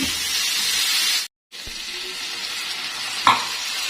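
Onions fry in a pan with Kashmiri red chili as water is added, giving a loud, steady sizzle that briefly cuts out, then resumes with a few clinks of a utensil.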